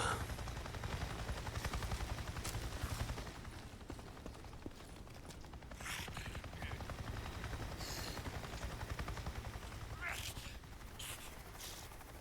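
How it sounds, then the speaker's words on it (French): A helicopter in the video game Days Gone gives a loud, steady rotor drone and throbbing thump that runs the whole time, with a few sharp game effects layered on top. "Je viens de voir un putain d'hélico"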